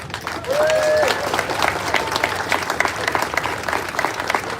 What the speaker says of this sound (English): A round of applause for the people that put this parade together